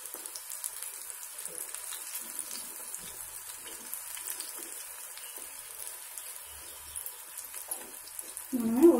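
Onion pakodi frying in hot oil, a steady fine crackling sizzle that continues throughout and swells louder near the end, with no talk over it.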